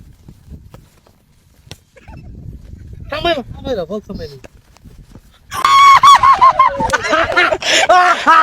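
A person in a local crow game imitates a crow with loud, repeated harsh honking caws, rising abruptly after quieter voices and chatter, with other people talking and calling around them.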